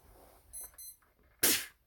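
Short electronic alarm beeps in two quick bursts, followed by a loud, harsh noisy blast; brief and close, with no talking.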